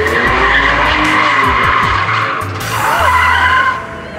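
A BMW car driven hard, heard as a loud engine roar with screeching tire squeals and skidding, rising and shifting over a few seconds.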